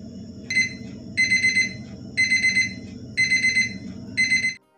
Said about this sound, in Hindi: मैंने 2 बजे का अलार्म भरा है और वो भी बोल चुका है